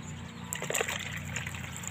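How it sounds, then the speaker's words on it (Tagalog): Water splashes and sloshes into a knapsack sprayer for a couple of seconds, with a steady low hum underneath. "Andre, lagyan mo na ng tubig yung"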